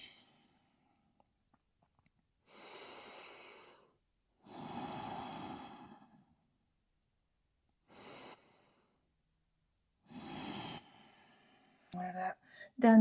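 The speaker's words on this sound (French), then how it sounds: "Respirez profondément sur 3 grandes respirations." Deep, slow breaths during a hatha yoga kneeling lunge, several long inhales and exhales spaced apart with quiet gaps between them, close and soft. A brief voice comes in at the end.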